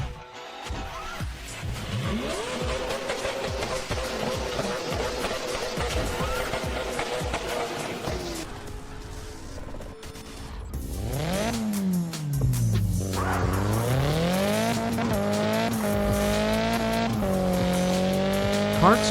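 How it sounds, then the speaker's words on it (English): Drifting cars in the mobile video game CarX Drift Racing 3, with sustained engine roar, rising and falling revs and long tire squeals running loudly throughout. "CarX Drift Racing 3 is a solid drifting game that offers a lot of content and replayability."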